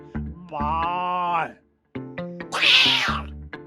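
A human voice imitates a cat, drawing out two meows with a short pause between them, close and fairly loud.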